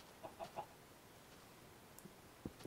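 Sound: chicken clucking in a video game

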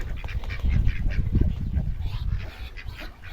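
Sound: ducklings quacking

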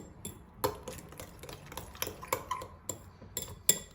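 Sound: mixing eggs with cheese in a bowl

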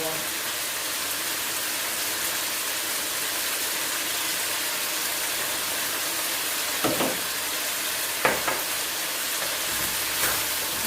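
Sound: stir-frying pork ribs with holy basil in a pan

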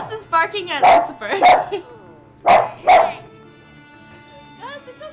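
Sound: pet dog barking at a cat in the video game

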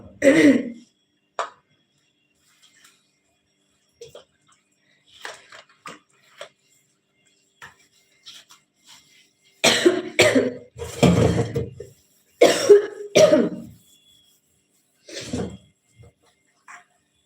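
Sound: coughing

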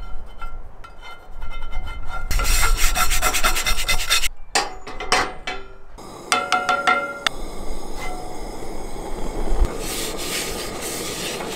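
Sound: scrubber scrubbing rusty cast iron pan

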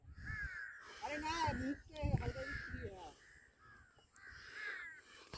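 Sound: crows cawing all around

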